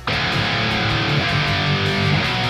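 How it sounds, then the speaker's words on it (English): Les Paul electric guitar running through an Ibanez Tube Screamer pedal, gain at zero and tone at ten, into a crunch amp; a sharp strum opens continuous brighter, punchier overdriven chords played up close with no voices. "And with that tube screamer in, it's going to sound like this."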